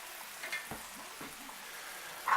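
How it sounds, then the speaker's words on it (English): Mixed vegetables fry on a stovetop over slightly above medium heat, with a soft steady sizzle and a few light stirring scrapes, ending in a brief louder clatter. "So I'm just going to keep stirring this up."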